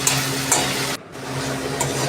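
Spiced prawns being stirred and sautéed in a pan with five-spice seasoning, giving a steady, fairly loud sizzle and frying hiss with occasional stirring scrapes, broken by a brief gap near the middle.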